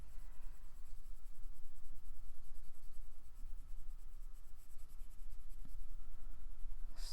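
Colour pencil shading and blending on paper while drawing a tiger's eye, a soft continuous scratchy rubbing that runs steadily throughout at close range, with no talking.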